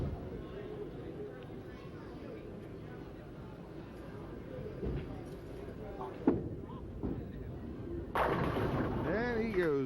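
A strike in the tenth frame of a junior tenpin bowling tournament, with the ball rolling down the lane and crashing into the pins, over a steady busy background of alley noise and people talking.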